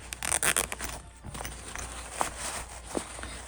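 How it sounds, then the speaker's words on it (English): A quick zipper being pulled open in short rasping bursts at the start, followed by soft rustling and handling noises close by. "I'm gonna open the zipper."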